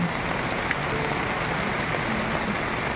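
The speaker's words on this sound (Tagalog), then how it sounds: "Biglang bumagsak yung ulan ano" Sudden heavy rain pours down outdoors in a dense, steady hiss of drops on surfaces, loud and unbroken throughout with no talking.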